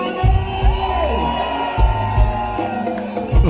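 A reggae cruise festival audience whoops and cheers in a loud, continuous wash of crowd noise, punctuated by regular booming bass hits and sustained music.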